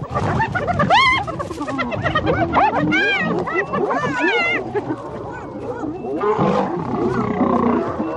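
Lions of a pride, including a young male, fight hyenas in the wild. Loud, overlapping roars, snarls and yelps run continuously and close up, with hyena whoops mixed into the chaotic clash.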